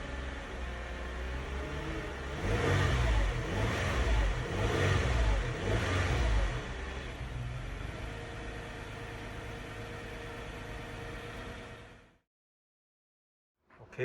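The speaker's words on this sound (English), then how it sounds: "car cranks up like really quick" A car engine fitted with a lithium-ion battery runs at a steady idle, rises through a few pulsing revs, settles back to idle, then cuts off abruptly into silence.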